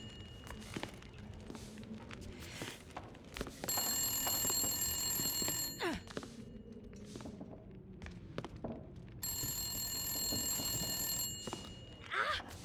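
Telephone in the video game The Long Dark rings in two extended bell bursts separated by a pause, over footsteps and thuds of someone moving through a building, fairly close and clear.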